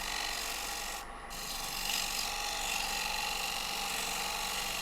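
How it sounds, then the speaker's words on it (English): A small pointy gouge cuts a dovetail into a spinning wooden bowl on a lathe, giving a continuous close scraping rasp with a brief pause partway through. "I'm just coming here with the little pointy gouge, and I'm gonna put a dovetail on it just by eye"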